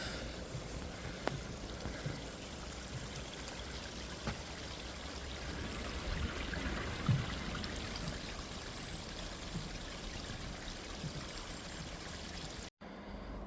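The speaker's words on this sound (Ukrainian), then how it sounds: "Майже зразу тут тече маленька річечка." A small mountain stream flows steadily nearby, an even, continuous rushing and trickling wash of water with no voices, cutting off abruptly near the end.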